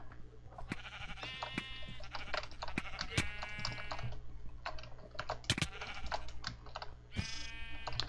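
Sheep bleat in the video game Minecraft, three wavering cries spread across the clip over steady computer keyboard typing and clicking and a constant low hum.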